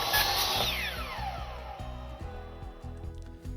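A chop saw cuts plastic trim during a sink cabinet floor repair, a high blade whine sliding steadily downward as the cut proceeds over repeated low mechanical thumps, loud and close with no voices.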